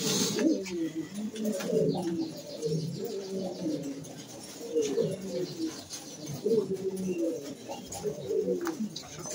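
Khenissi pigeons coo in a breeder's loft, several birds overlapping in soft, rolling, throaty calls that continue steadily throughout at moderate loudness, with no talking.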